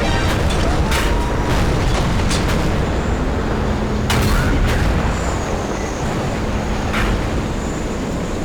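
Tank battle in a video game, with engine and track rumble filling the scene and a few sharp booming shots and impacts rising over it.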